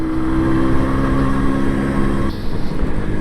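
A 1984 MZ TS125 two-stroke motorcycle riding along country roads, its steady buzzing engine drone loud and continuous with strong wind rush, the tone shifting slightly near the end.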